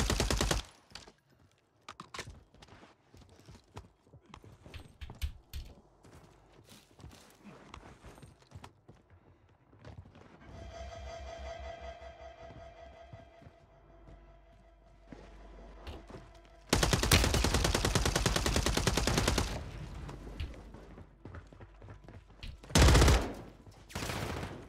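Weapon fire in the video game Warzone cracks out in scattered sharp shots and bursts, with dense loud stretches of rapid automatic fire late on, separated by quieter gaps.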